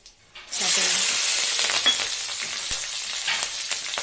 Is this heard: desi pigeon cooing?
no